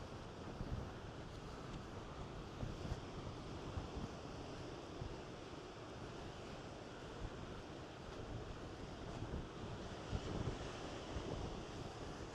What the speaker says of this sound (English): That wind is relentless.